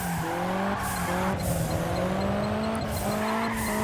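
Car drifting in the arcade racing game Juiced 2, with a steady high tire squeal over a droning engine note that shifts pitch with gear changes, loud and continuous with no talk.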